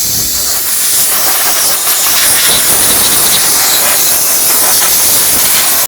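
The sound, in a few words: spraying brake parts cleaner aerosol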